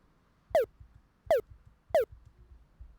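Three sharp, bright electronic zaps with a falling pitch, evenly spaced like retro arcade laser shots, crisp over a quiet background.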